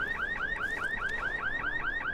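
A car alarm blares in the video game Dying Light, a fast, repeating warbling siren cycling evenly at a steady moderate level with no voices.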